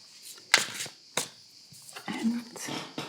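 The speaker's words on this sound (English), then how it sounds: "Let's shuffle a little bit more." Tarot cards are shuffled close by in quiet riffling bursts with soft flicks of the deck, while a voice talks softly over them.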